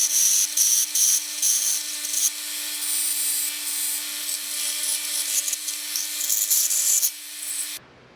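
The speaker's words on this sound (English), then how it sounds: "We'll go grind that out of there." A grinder cuts metal away for valve spring clearance during a Crower 2JZ valve spring upgrade on a Vortec 4200, giving a loud, harsh grinding hiss in several bursts over a steady motor whine. The grinding stops abruptly at the end.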